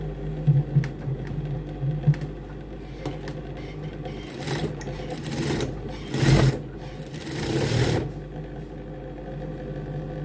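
Sewing machine stitching a trouser pocket, a steady mechanical whir running throughout with brief louder bursts, close and alone without talk.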